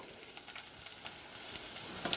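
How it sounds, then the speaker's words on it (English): Quiet, steady sizzling of diced onions frying in hot oil in a pan, with faint crackles and pops and no voices. "Just going to add my diced onions, and you should hear a sizzle straight away"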